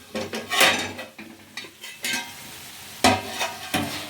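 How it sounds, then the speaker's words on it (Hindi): Vegetable curry with spices being fried and stirred in a pan for a festive veg thali: uneven bursts of spatula scraping and pan clatter over a low background sizzle, close and fairly loud. "अब कम से कम 3 से 4 मिनट इसे हम और भून लेंगे।"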